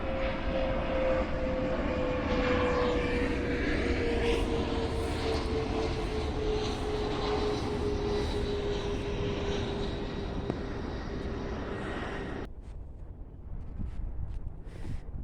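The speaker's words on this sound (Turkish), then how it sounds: "Bir uçak da gidiyor." A fixed-wing airplane passes overhead above a flower-filled meadow, its engine drone steady and fairly loud with a slowly falling tone, then cutting off abruptly near the end to quieter outdoor ambience.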